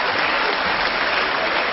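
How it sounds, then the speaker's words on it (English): Loud, dense applause fills a parliament chamber, a continuous roar of many hands clapping without a break. "that's the first time I've ever received such applause"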